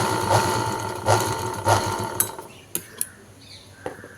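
A tailoring sewing machine stitching fabric with its bobbin threaded, giving a few rhythmic mechanical whirring pulses, then sharp isolated clicks and knocks as the mechanism stops, close up with no talking.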